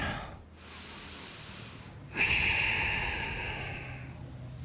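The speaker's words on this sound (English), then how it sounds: "I'm just taking a few deep breaths here" A person draws a few slow deep breaths during a yoga mobility class, soft close hissing inhales and exhales with a brief pause between them and no talking.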